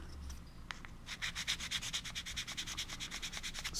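Plastic model part rubbed with a double-sided sandpaper block, a close, quiet series of rapid rhythmic scratching strokes that speeds into a steady back-and-forth sanding pattern.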